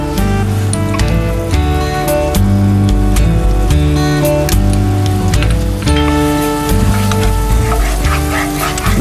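Garlic sizzles in melted butter in a pan for prawn soup, a steady crackling hiss heard beneath loud, continuous background music.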